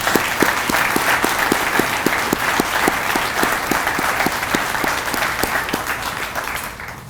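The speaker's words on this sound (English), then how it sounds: "Let's give a round of applause." An audience at a Hometown Hero Day event applauds scholarship recipients as they stand, a loud, sustained round of clapping with a steady rhythmic patter that carries on for several seconds before tapering off at the end.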